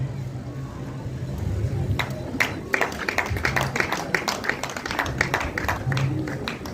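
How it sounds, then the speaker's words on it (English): An audience at a primary schools music festival awards ceremony claps as ministry officials come forward, a loose patter of applause building and continuing steadily, with faint voices underneath. "we clap as our ministry officials come forward"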